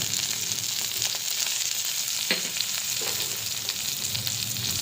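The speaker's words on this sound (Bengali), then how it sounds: "বেগুন দিয়ে দিলাম, হলুদ দিয়ে দিলাম" Eggplant pieces with turmeric and slit green chillies fry in oil in a pan for a Bengali catfish curry, giving a steady, close sizzle with a few brief utensil clinks and no talking.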